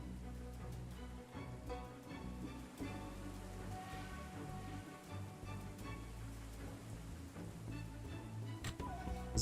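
Steady rain patters without a break in the video game Wandering Sword, a soft, even hiss running under faint tonal background sounds.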